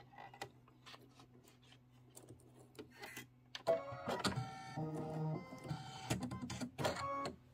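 An embroidery machine stitches an apple placement line on a Kimberbell project with red leather and topper, a rapid mechanical chattering of needle strokes that starts abruptly partway in, louder and busier than the quiet hum before it.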